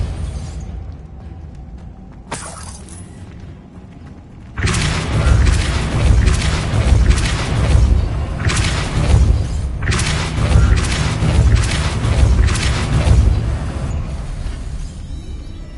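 The Depulso spell goes off repeatedly in Hogwarts Legacy, loud booming blasts and bursts following a quieter stretch, close and dense, with no voices.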